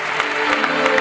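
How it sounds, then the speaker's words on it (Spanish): Church congregation at a Spanish-language sermon applauding, a brief burst of dense clapping with scattered sharp claps standing out over a sustained tone, loud and close. "Dale un fuerte aplauso al amor del Señor."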